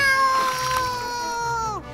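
A cartoon cat yowls as it is pushed into a river, one long loud sustained wail with bright layered harmonics that slides downward and cuts off abruptly at the end.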